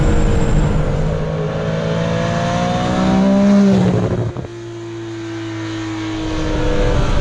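A sports car based on a 1973 Porsche Carrera revs and climbs in pitch, then cuts off sharply before settling into a lower, steady idle drone.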